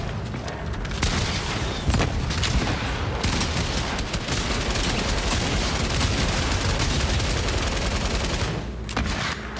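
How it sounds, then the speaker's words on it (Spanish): Dense, sustained gunfire from shotguns in a Fortnite red-versus-blue match, loud and continuous across the whole stretch with overlapping blasts and no talking. "después de darle tanto con la escopeta, conseguimos nuestro desafío"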